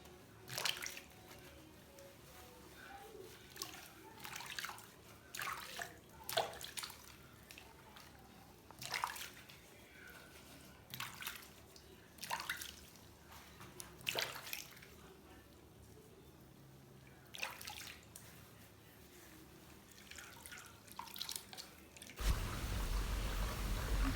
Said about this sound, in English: So this is my first rinse after shampooing.